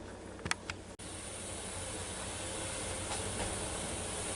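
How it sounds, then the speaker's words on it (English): A pressure cooker holding spaghetti and meatballs hisses steadily as it releases steam, with a few sharp sputters and pops near the start, heard up close in a home kitchen. "now it's starting to spit and sputter and some steam come out of it"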